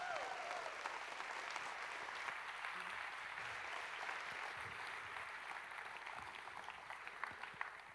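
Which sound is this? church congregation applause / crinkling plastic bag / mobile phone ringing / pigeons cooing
church congregation applause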